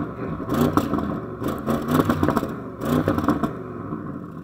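Audi RS6 estate's engine revved in repeated bursts, three rising-and-falling swells of deep mechanical growl, close and fairly loud with brief quieter gaps between blips.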